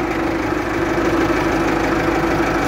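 Ford 6610 tractor engine runs steadily at close range, a loud, rough mid-pitched drone with a constant hum and faint knocking, while the tractor moves along in gear.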